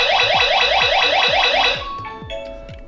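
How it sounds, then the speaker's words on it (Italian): A HOM IO smart home burglar alarm siren wails loudly in fast repeating sweeping pulses, then stops and leaves a few fainter electronic tones. "E poi parte l'allarme."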